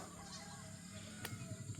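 Geese honk faintly in the distance, a few short calls near the end over a low, steady background hum.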